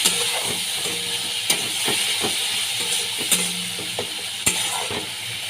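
Spice water hits masala frying in a pan for a Bengali fish curry. A steady hiss runs throughout, broken by a few sharp utensil clanks against the pan. Faint background music plays, with no talking.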